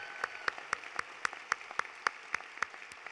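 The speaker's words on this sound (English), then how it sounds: "So, how about another round of applause for the multi-talented Cameron Chaplin?" Applause from a law school commencement audience, brisk rhythmic clapping at a moderate distance, steady and even throughout with no voices over it.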